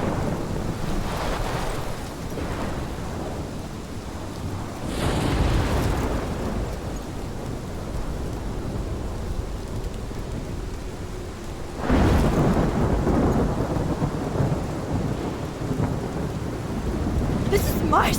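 Thunderstorm in the video game Life is Strange: heavy rain hisses steadily throughout while deep thunder rumbles roll in, with loud cracks and booms near the five- and twelve-second marks.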